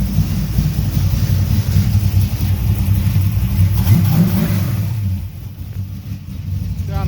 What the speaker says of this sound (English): looks like we got the old girl running with the new engine.